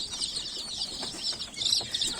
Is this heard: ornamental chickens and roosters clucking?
yes